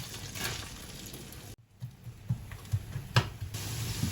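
Sliced onions frying in melted butter, a faint soft sizzle with scattered crackles and pops, close and quiet, briefly interrupted as the onions go in.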